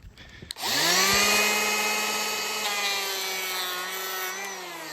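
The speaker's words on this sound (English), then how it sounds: "the first thing I'm gonna do is hit that high spot with the planer" An electric hand planer spins up and cuts across a high spot on a wooden door slab, a loud steady whine with strong harmonic tones that rises sharply after a brief start and holds for several seconds alone.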